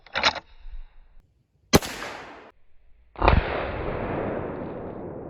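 A lever action rifle fires at a target, giving several loud, sharp cracks spaced apart, the last one trailing into a long, noisy decay with no talking.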